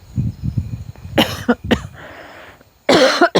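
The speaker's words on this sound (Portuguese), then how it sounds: "Tava tossindo." Several sharp, close coughs in bursts, with a raspy throat-clearing sound between them; no speech.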